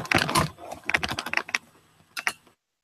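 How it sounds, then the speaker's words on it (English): Typing on a computer keyboard heard over a call, irregular bursts of close key clicks with short pauses, no talk. "Someone's typing."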